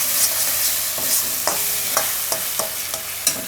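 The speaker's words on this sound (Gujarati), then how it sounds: "આને આપણે આ રીતે તેલ છૂટું પડે ત્યાં સુધી ગ્રેવી પકાવી લેવાની" Gravy for parval kofta cooks in oil until the oil separates, a steady sizzle broken by a regular series of sharp spoon scrapes and stirs against the pan, close and continuous.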